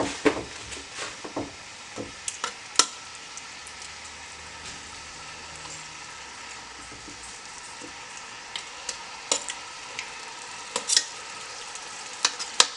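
Chicken thighs fry in a hot pan with a steady, moderate sizzle and scattered sharp pops and crackles, no talking.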